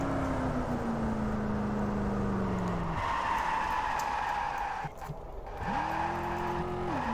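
A car in the racing game Street Legal Racing: Redline, running on a four-speed gearbox, drones steadily with rising and falling engine pitch, shifting gears and dropping briefly before revving up again, with tire squeal mixed in.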